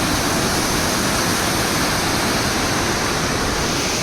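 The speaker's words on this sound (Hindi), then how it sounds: "फॉल का जो पानी है वो इधर भी आ रहा है।" Waterfall runoff near Cherrapunji, Meghalaya, rushes past as a loud, steady, broadband roar of flowing water with no breaks and no voices over it.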